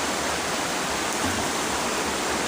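Flowing water current during a spearfishing outing, a loud, steady broadband rush of moving water with no breaks, close and filling the whole clip.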